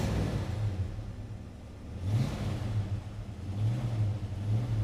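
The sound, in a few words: 1969 Ford Mustang Mach 1 engine cold start revving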